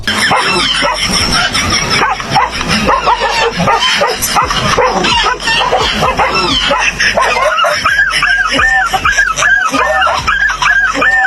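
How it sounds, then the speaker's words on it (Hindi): A dog hurt by a groundhog bite whimpers and yelps in a dense, noisy outdoor scene, with rapid high-pitched cries growing clearer and more repetitive toward the end. "ग्राउंड हॉग की एक बाइट में ही कुत्ते की सारी मस्ती निकल गई और वो रोने लगा"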